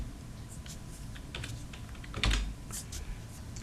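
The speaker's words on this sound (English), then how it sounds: "I'm just going to use the keyboard shortcut of Control F11." A computer keyboard is pressed for a Control F11 shortcut, giving several light taps and one firmer thump near the middle, close against a low background hum.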